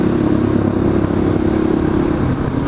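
An off-road vehicle's engine runs hard on the throttle on sandy ground along Moab's Potash Road, a loud, steady, rumbling drone with a continuous low growl and no pauses.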